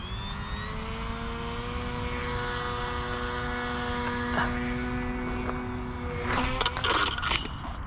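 The electric motor of a small Dart 250g RC plane whines at launch. A steady, close, high-pitched tone climbs slightly in pitch, and scraping and knocking noises break in near the end.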